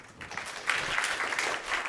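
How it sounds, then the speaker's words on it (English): Audience applause at a talk on future skills for innovation managers and entrepreneurs, a steady dense patter of many hands clapping that swells slightly partway through and holds fairly close. "An applause, ladies and gentlemen."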